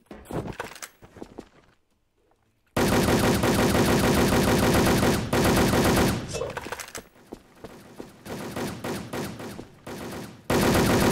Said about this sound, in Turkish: Adam çıkmadan taramaya başlıyorum, görmüyor musunuz?